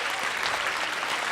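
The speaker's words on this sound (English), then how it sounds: "let's have another round of applause" A burst of loud, close applause, many hands clapping densely and continuously for a moment.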